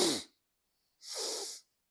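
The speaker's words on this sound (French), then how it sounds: "Quand vous reniflez, il faut faire un petit peu de bruit." Two forceful breaths during a breathing exercise: a short, noisy exhale-like burst, a pause of silence, then a longer loud sniff through the nose lasting about half a second.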